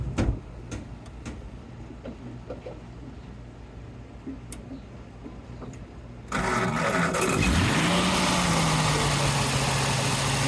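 A 1932 Ford Tudor Sedan flathead with a single downdraft carburetor and mechanical fuel pump sits quiet with faint ticks, then fires abruptly and settles into a loud, steady, close-up idle with a rising whine as it catches.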